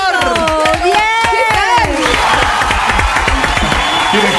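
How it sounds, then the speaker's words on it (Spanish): A television studio audience on a Bolivian magazine show bursts into cheering and clapping, starting under excited voices and shouts, then settling into a steady, fairly loud round of applause. "Un aplauso, por favor"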